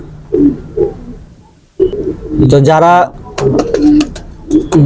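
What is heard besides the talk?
female pigeon cooing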